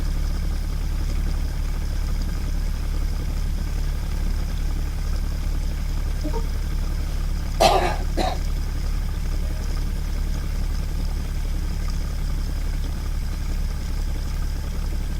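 An experimental prime mover actuator generator runs with a steady, continuous mechanical hum and drone, with a brief brighter click or transient partway through and no talking.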